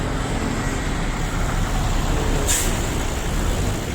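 A jeepney rolls by in city street traffic, a close, steady engine and road rumble with a brief hiss of air partway through, and no voices.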